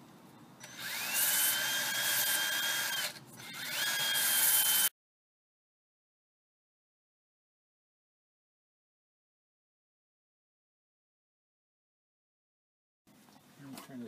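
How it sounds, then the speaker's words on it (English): Wooden edges are sanded smooth for an under-bed hanging dress storage build. A loud, steady abrasive hiss with a whining motor-like tone runs for about five seconds, then cuts to silence before faint noise returns at the end. "Smooth off the edges with sandpaper."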